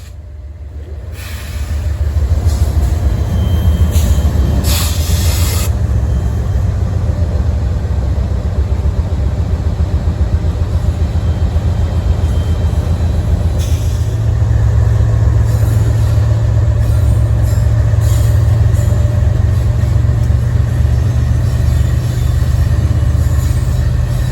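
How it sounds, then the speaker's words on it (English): A newly powered westbound coal train rolls onto the Morris subdivision near Willmar, Minnesota, producing a loud, steady low rumble that builds in the first seconds and holds for the whole stretch, with brief higher clatter early on. "the newly powered coal train began entering the Morris subdivision in the westbound direction"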